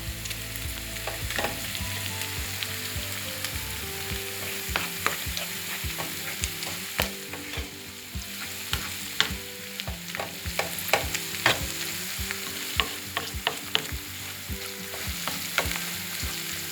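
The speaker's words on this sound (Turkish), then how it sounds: "Şimdi de yarım kaşık salçamı kavuracağım inşallah." Tomato paste frying with sautéed onions in a pan, a steady soft sizzle with frequent spoon stirs and scrapes against the pan, close and continuous.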